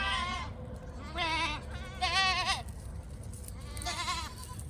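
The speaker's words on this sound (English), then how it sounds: "Here they are, making lots of noise this morning." Goats on a farm bleat several times in quick succession, with wavering, quavering calls rising over a low background rumble. The calls come from close by and grow slightly louder partway through.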